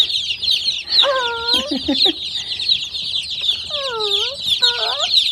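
A flock of 97 newly arrived young chickens cluck and peep while eating feed, with a steady high peeping chorus and several louder, clearer calls breaking through near the microphone.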